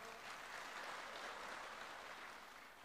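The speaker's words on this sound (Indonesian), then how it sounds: "Ya, kita aplaus." Audience applause at a political speech event in Indonesia, a steady dense wash of clapping from a large crowd lasting the whole stretch, fairly distant and even, no voices over it.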